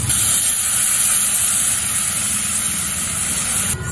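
Hot water poured onto fried spice paste in a pan for Bengali Bhetki fish kalia gives a loud, continuous steamy hiss and sizzle that holds steady for several seconds, with no voices.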